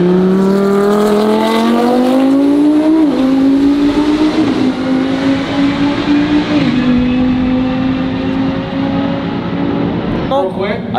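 A Lamborghini race car at a drag race accelerates hard and close, its engine note climbing steadily through the gears as a loud, sustained roar, with voices faintly underneath.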